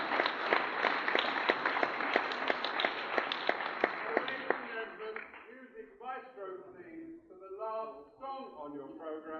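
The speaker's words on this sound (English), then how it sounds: "Another round of applause." Audience clapping at an old-time music hall show: a run of sharp, evenly spaced claps for about four seconds, then a voice takes over and speaks as the applause dies away.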